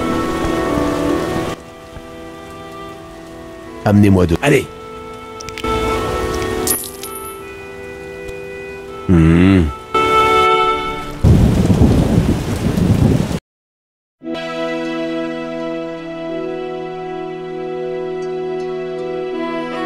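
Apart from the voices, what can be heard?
thunderstorm with rain and thunder in the video game The Witcher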